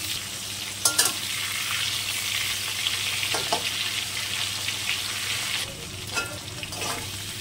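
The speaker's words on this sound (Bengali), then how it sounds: "মাছ কটাকে হালকা করে ভেজে নেবো, খুব বেশি ভাজবো না" Prawns fry lightly in hot oil with a steady, close sizzle, broken by a few scraping stirs of a spatula in the pan; no voices.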